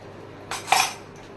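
A metal spoon clinks against a bowl while sugar goes into a watermelon ice cream mixture, two quick close scraping taps with a bright ring, alone in a quiet kitchen.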